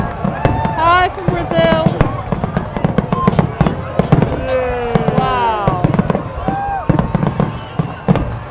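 Fireworks burst over Dee Why Beach in Sydney, with repeated sharp pops and crackles in an uneven rhythm, whistling rockets rising between them, and nearby spectators talking and exclaiming throughout.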